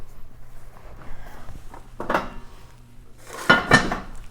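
A scored sourdough loaf on parchment paper being set into a Dutch oven, with faint shuffling, then a soft thud and a clanking lid and pot knock close by.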